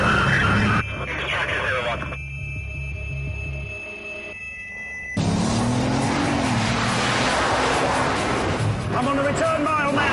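A Bugatti Veyron racing at about 188 mph, its engine a loud sustained roar that drops away as it slows for a turn, then surges back hard, with someone talking over it.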